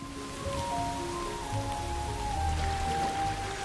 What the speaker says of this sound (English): Towards the end of spring, the rains begin. The water comes down in buckets.